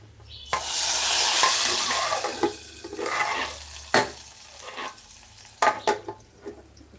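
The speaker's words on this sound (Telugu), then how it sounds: "ఇంక తాలింపు అయితే ఇందులో వేసేసుకుంటున్నాను" Hot tempering is poured into dal and gives a loud burst of sizzling that fades over a few seconds, followed by several sharp clinks and scrapes of a spoon against the pot.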